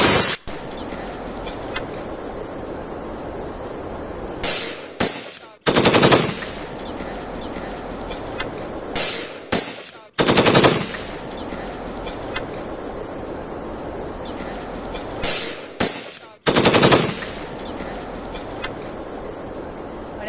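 Bursts of gunfire aimed at the tyres of a Pakistani truck ring out in several loud, sharp volleys spread across the stretch, with crackling noise and steady background rumble between them.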